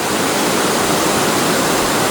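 Bridal Falls, a waterfall in the Cordillera mountains, roaring as a loud, steady broadband rush of falling water close by, with no voices over it.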